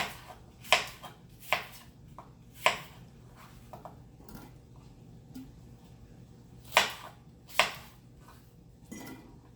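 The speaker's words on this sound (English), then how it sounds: "So I'm just gonna keep chopping everything." A knife chops apples on a cutting board for homemade apple cider vinegar, giving sharp, irregular thunks close by, some louder than others, with quiet gaps between.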